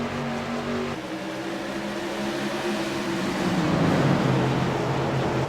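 Modified race cars of the CAN-AM Tour Modified Series rumble and build speed together at a green-flag restart at Richmond Raceway, a loud, continuous engine roar that swells slightly toward the end.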